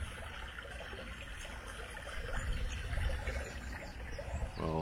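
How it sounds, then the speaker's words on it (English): A small stream flowing through Cheshire countryside near Nantwich along the Weaver Way, a soft continuous trickle and babble heard faintly at a steady level, with a little outdoor ambience around it. "Looks more like a stream to me, but all rivers start small"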